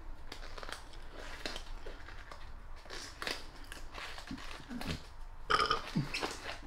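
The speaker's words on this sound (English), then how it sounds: "Burp." A single burp from someone gloving up to paint an Archaon the Everchosen miniature, low and throaty and spread over a few seconds, with faint rustling and handling noises close by.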